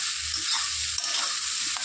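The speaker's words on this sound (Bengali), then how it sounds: "এই সয়াবিনটাকেও একটু নেড়ে চেড়ে দিচ্ছি, ভাজা ভাজা করে নেব" Soybean chunks frying in leftover potato-frying oil while being stirred in the pan, a close, steady sizzle with light scraping movements throughout.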